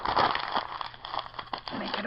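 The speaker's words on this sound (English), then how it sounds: "So you're going to crinkle it up." Paper being crinkled and crumpled by hand while shaping a paper-cone gnome hat, a close, continuous crackling rustle with brief sharp crunches, heard under a person talking.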